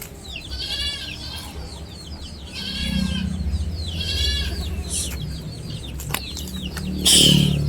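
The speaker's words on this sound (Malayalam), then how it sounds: "ഒരു മലബാർ ഇനത്തിൽപ്പെട്ട ഒരാടും അതിൻ്റെ ഏകദേശം ഒരു മാസമായ 2 കുട്ടികൾ" A Malabar breed nanny goat and her two kids, about a month old, bleat in several quavering calls spaced a second or so apart, close by, over a background of farmyard noise with a brief louder clatter near the end.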